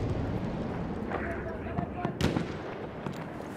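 Battlefield 1 gunfire sounds as scattered distant shots and pops, with one sharp, louder crack near the middle, under a busy battle ambience and someone talking throughout.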